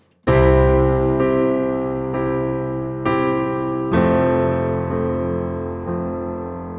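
Piano chords played with the sustain pedal ring out one after another, each new chord blending into the lingering resonance of the previous one, with no breaks between changes.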